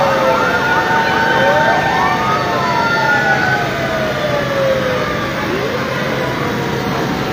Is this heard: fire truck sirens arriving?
yes